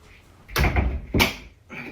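A door fitted with Schlegel weatherstripping is forced shut, giving two firm, close thuds about half a second apart, followed by a fainter knock as the stripping resists.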